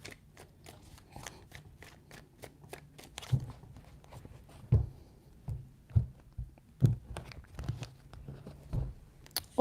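Tarot cards are handled and shuffled close up in a run of quick soft taps and riffles, followed by sharper irregular knocks and slaps, with no talk.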